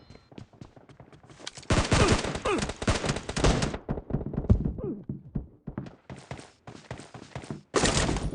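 Rapid gunfire from the PUBG Mobile video game comes in loud, dense bursts of automatic shots with short pauses between volleys and some single shots and thuds, all close and in the foreground.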